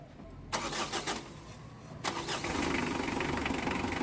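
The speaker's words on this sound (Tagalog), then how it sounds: "ilagay ko na itong radiator cap niya, tapos pa-start ko na itong makina" A Mitsubishi Adventure's engine, just refilled with radiator coolant, cranks twice in short bursts before catching on the second try and settling into a steady idle, moderately close and without talk.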